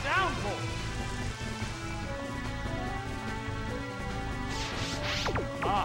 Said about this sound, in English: Dance. Rain Dance.